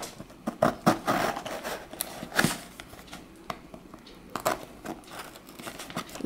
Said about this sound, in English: So I will cut it now.